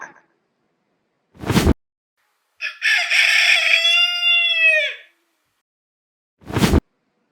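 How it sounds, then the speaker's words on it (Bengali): A rooster crows once, loud and close, in a clear drawn-out call, between two short sharp whooshes and otherwise silence. "এটা হলো মোরগ, ইংরেজিতে বলে কক।"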